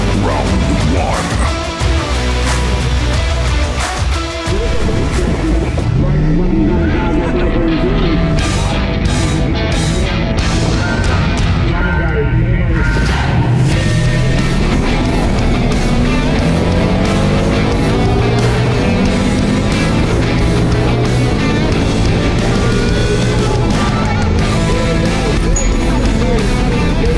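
A Ford Mustang and a Holden Monaro drag race, with loud engines roaring and revving up through the gears in rising sweeps, continuous and close, alongside a faint voice.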